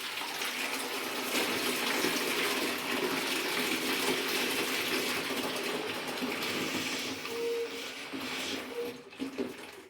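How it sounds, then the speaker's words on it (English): Water gushes steadily from a tap into a container, a continuous close rushing splash that tapers off near the end. "So yeah, let's fill that up with water"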